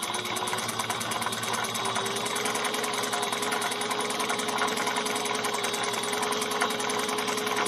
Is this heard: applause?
no